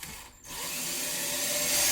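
A power drill bores into the plastic front door card of a 2014 Nissan Note, a steady close whirring that dips briefly near the start and then runs on continuously.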